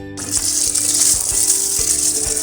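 Water pours steadily into a pot of soaked rice and half-cooked potatoes for matar pulao, a loud continuous gushing splash with slight dips in flow, heard alone without talk.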